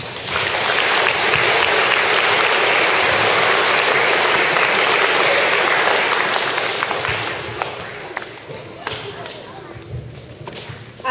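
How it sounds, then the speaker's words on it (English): School assembly audience applauding, a dense, loud wall of clapping from many hands that holds steady for several seconds, then thins out into scattered claps and fades. "please clap."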